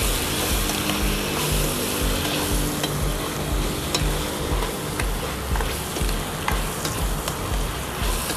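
Shrimp and tomato sauté in a pan for ginisang upo with gourd, producing a loud, continuous sizzle and frying hiss with steady stirring scrapes, close up and without speech.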